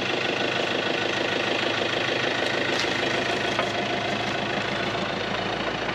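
A broken CV joint on an overland vehicle makes a constant, dense mechanical rattle and knocking, layered over loud, steady engine and drivetrain noise with no letup.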